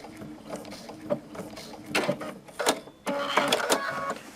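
Stitches from a sewing machine come in short uneven bursts while a machine appliqué piece is locked off. The whirring spurts are separated by pauses, then run longer and steadier near the end, close and fairly quiet.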